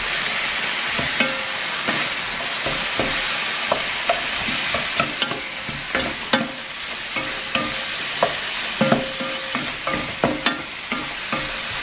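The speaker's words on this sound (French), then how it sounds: "Alors j'ajoute ensuite donc les oignons. Je mélange." Onions frying and being stirred in a pan: a steady, close sizzle with scattered scrapes and clinks of the utensil against the pan, continuing throughout with no talking.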